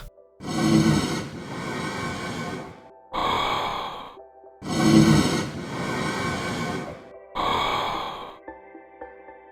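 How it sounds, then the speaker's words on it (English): Blaze mob breathing effect from the video game Minecraft: four loud, raspy breathy bursts, alternating between deeper, fuller exhalations and shorter, higher-pitched ones, separated by brief pauses, with no talking. "It also reminds me of the Blaze's breathing sound effect, although they don't really match and are just pretty similar."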